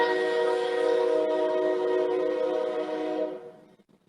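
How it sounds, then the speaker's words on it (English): A loud train rolls close past with a long, steady tonal horn or whistle droning over rumbling wheels, then cuts off and fades sharply near the end. "Can you guys hear this train that's going through right now?"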